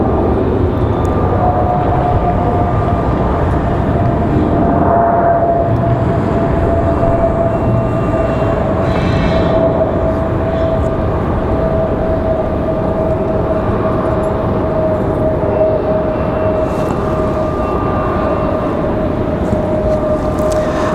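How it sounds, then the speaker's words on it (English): Frontier Airbus A321 airliner touching down and rolling out at Raleigh-Durham airport, a loud steady jet roar with a whining tone running unbroken throughout, heard from nearby with no voices. "Nice smooth touchdown for Frontier. This A321 flying 2 hours, 6 minutes from Dallas."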